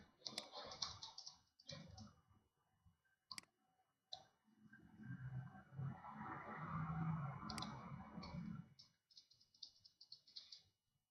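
Code being typed on a computer keyboard: quiet, close key clicks come in irregular bursts and single taps, with a soft murmuring stretch in the middle.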